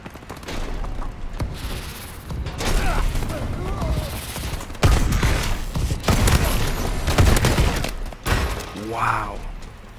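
Shotgun blasts in the video game Call of Duty: Advanced Warfare, several loud booming shots spaced a second or two apart among clattering combat effects, with a player talking over the action.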